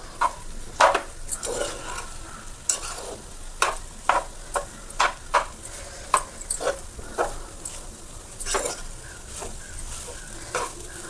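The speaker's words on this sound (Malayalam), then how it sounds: "നന്നായിട്ട് മിക്സ് ചെയ്ത് കൊടുക്കുക." Garlic egg fried rice is stirred in a pan, with a soft background sizzle and irregular scraping and tapping strokes of the spatula against the pan, fairly close and without talk.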